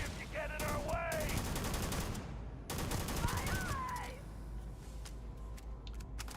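Rapid gunfire from a weapon in the video game Starfield, sustained bursts running through most of the clip under a dense game mix, with a voice calling out briefly.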